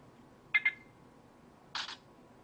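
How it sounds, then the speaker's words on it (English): Two quick, crisp shutter clicks from a Casio Exilim C721 phone camera, the first a sharp double snap and the second a slightly longer burst, in an otherwise quiet room. "Now we've got the shutter sound on."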